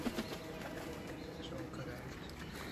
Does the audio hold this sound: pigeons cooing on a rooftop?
yes